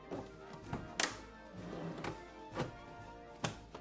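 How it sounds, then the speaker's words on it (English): Wooden workbench drawers are slid in and shut, giving a series of sharp knocks and soft thuds spaced irregularly, quiet and close with light scraping between. "Drawer goes in, drawer goes out."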